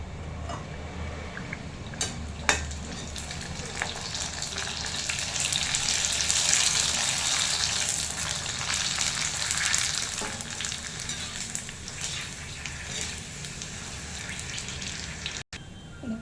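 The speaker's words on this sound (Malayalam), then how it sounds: "എണ്ണ ചൂടായിട്ടുണ്ട്. പൂരി വറുത്തെടുക്കാം." Puri frying in hot oil in a home kitchen, a steady dense bubbling sizzle that runs unbroken and fairly close throughout, with no talk over it.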